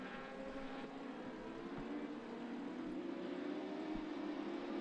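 Racing motorcycles at a classic road-racing circuit round, their engines howling past in a steady rising drone at moderate distance, with no voices over it.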